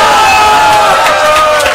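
Women's wrestling audience roaring and cheering loudly, a dense sustained crowd wall with shouted voices and whoops rising throughout, close and continuous.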